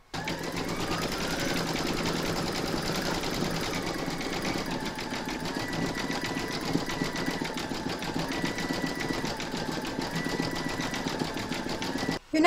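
An embroidery machine stitches the eyes, nose and mouth onto an in-the-hoop stacked pumpkin, a steady close-up mechanical whir with rapid rhythmic needle chatter running without a break.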